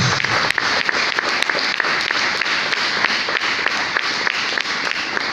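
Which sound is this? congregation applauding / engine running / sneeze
congregation applauding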